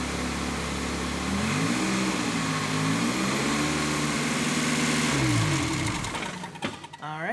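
A Ferrari engine held steady at about 2,000 RPM during an oil and filter change gives a continuous, loud mechanical drone with a wavering pitch, then fades and cuts out near the end.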